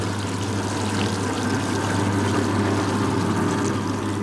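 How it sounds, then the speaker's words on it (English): Steady, dense rush of water sprayed over a bed of stones at a sewage treatment works, constant and close, with a low hum beneath it and no pauses. "The water is sprayed over this bed of special stones."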